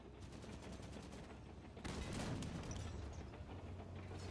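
Rapid gunfire pours onto a Scorpion tank in Halo 5 Guardians, with fast repeated shots rattling continuously and a heavier burst halfway through against steady battle noise.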